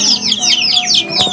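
Darag native chickens chirp and cluck up close in a quick run of high, repeated calls over a faint background hum.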